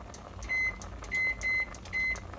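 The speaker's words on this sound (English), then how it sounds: "I'm going to set the timer for 6 minutes." Four short, sharp electronic beeps come from a kitchen timer as it is set for 6 minutes, evenly spaced and clear above a low background hum.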